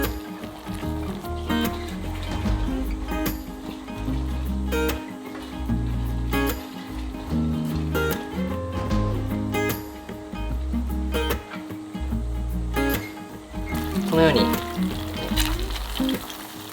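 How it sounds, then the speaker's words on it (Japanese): A garlic, shiso and miso mixture cooking over low heat, with a soft continuous sizzle and bubbling, while a low rhythmic background hum rises and falls throughout. "調味料の水分を飛ばしていくように弱火で加熱していきます"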